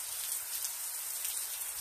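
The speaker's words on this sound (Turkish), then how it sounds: "Görüyor musunuz yağmuru? Yağmur yağıyor." Steady rain falls close by as a dense, even hiss of drops on surfaces, with no voices over it.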